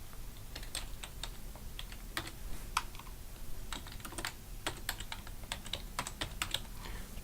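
Rapid, uneven clicks of a computer keyboard as a command is typed into Unreal Editor, the keystrokes crisp and close with short pauses between bursts, no voices.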